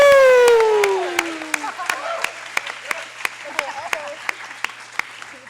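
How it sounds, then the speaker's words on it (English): A single loud whoop of a voice opens, then thinning applause follows as a handful of separate, evenly spaced claps ring out and slowly fade away. "one more round of applause for Kristin Ebeling"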